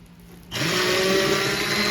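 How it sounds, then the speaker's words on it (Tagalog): An immersion blender switches on abruptly and whirs loudly and steadily while mixing soap made from recycled cooking oil, close and alone after a quiet start. "wag mong pindutin agad yung immersion blender mo"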